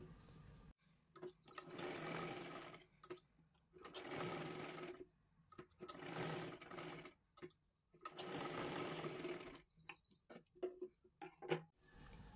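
A sewing machine runs in four steady bursts, double-stitching a size 37 katori blouse, each run lasting about two seconds with short pauses between, then a few quick stop-start stitches at the end; close and clear, no talking.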